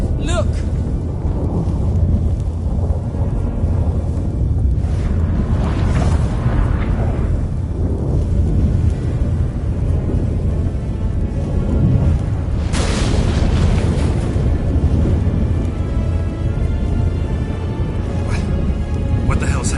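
Thunderstorm in The Witcher 3: Wild Hunt, with deep rumbling booms and rushing rain-like noise rolling continuously, loud swells of thunder under dramatic game sound and occasional speech.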